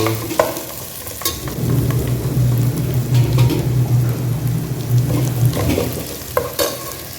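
Ginger garlic paste sizzles loudly in a pan of hot oil while a spoon stirs and scrapes through it. Steady close frying runs throughout, with a few sharp clinks of the spoon against the pan.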